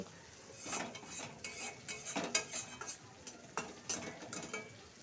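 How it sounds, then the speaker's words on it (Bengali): Curry with ginger paste being stirred and sautéed in a pan: repeated scraping taps of a utensil against the metal, irregular and close, over a soft steady sizzle with no talking. "এখন কিন্তু আমি এটা দিয়ে সুন্দর করে কষতে থাকবো।"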